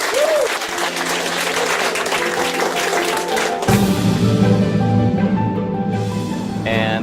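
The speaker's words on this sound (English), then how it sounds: "get yourself a round of applause." Applause from an audience at a training completion event, dense steady clapping that swells midway and holds under a voice speaking and some music.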